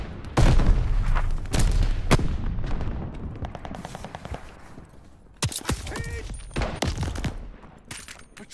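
Call of Duty: Vanguard multiplayer combat: loud, close bursts of rifle and automatic gunfire mixed with heavy grenade blasts, sharp cracks repeating in rapid volleys with short gaps, no speech.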